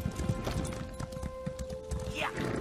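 Horse hooves clip-clop in a steady, rapid rhythm while riding in The Elder Scrolls Online, with a brief whinny and voices present alongside the hoofbeats.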